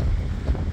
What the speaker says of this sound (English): Very breezy, very gusty